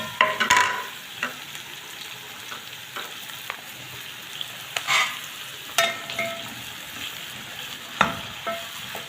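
Onions frying with spiced meat (mushroom-like pieces) seasoned with salt, pepper, cumin and seven spices in a pan, giving a steady sizzle with scattered scraping and stirring clicks, close and moderately loud, no talk.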